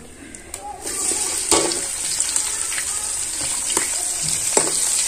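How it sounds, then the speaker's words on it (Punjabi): Onions frying toward golden brown in a pan, a bright steady sizzle with scattered clicks and a few louder pops and spatters close by. "ਪਿਆਜ਼ ਨੂੰ ਗੋਲਡਨ ਬਰਾਊਨ ਕਰ ਲੈਂਦੇ"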